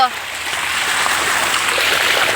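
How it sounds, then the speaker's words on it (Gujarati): Water flows through a farm channel, a close, steady rushing and splashing stream that continues evenly after a brief louder onset. "આ જો આવે છે ને મસ્ત પાણી"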